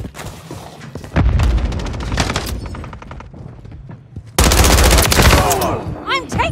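Rapid automatic gunfire in the military shooter game World War III, loud sustained bursts that stop briefly and then resume heavier with sharp cracks, under radio-style callouts and voices.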